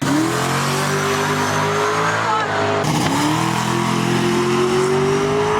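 Supercharged Ford Mustang drag car making a pass, a loud sustained engine roar climbing steadily in pitch through the gears, with a brief dip near three seconds as it shifts, then pulling hard again.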